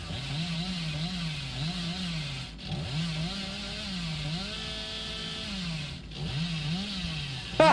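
The Hillbilly's chainsaw in the game Dead by Daylight revs in a steady, wavering motor whine that rises and dips in cycles, briefly cutting out twice, near and fairly loud with no talk.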